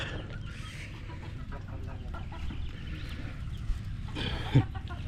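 A newly bought native chicken clucks in short, close bursts over a steady rustling, shuffling background, with a louder flurry near the end.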